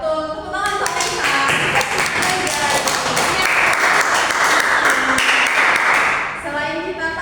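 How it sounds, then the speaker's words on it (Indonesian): Classroom audience applauding for a student named Anissa during a teaching session, a dense burst of clapping for about six seconds that fades out at the end. "Tepuk tangan untuk Anissa."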